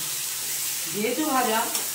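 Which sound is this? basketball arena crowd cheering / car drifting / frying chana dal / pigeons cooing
frying chana dal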